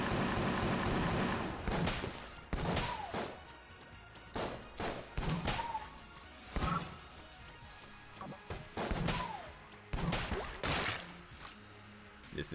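Dark Marker gun fired in Enter the Gungeon, a series of separate sharp cracking shots spaced irregularly, close and punchy, with quieter game effects in between and no talking.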